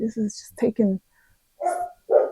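A pet dog barks a few sharp, close yips in an indoor room, with someone talking just before and after the barks.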